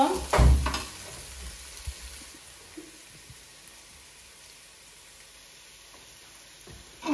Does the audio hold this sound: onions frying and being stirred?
yes